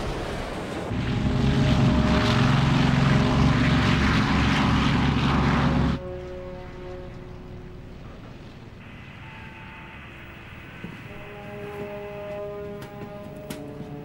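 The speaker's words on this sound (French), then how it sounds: "Notre satellite a détecté 2 avions de chasse chinois." Two Chinese MiG fighter jets roar past overhead, a loud sustained engine rumble for several seconds that drops off abruptly into a quieter, lingering hum with tonal whine.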